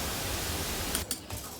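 Pink noise from a signal generator at roughly -18 dBFS RMS plays as a steady, even hiss, brief and moderately quiet, with a couple of faint clicks near the end.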